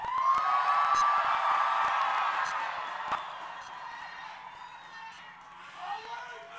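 Large March For Life rally crowd outdoors in Washington, D.C., cheering and whooping loudly at first, then settling into a steady murmur with a few scattered shouts.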